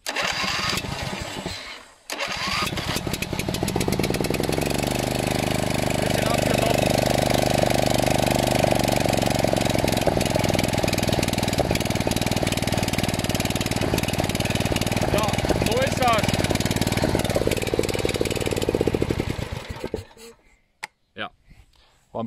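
A lawn mower engine roars loud and close for about eighteen seconds, its drone swelling and wavering as the throttle is opened, then cuts out abruptly; a voice is faintly present beneath the engine.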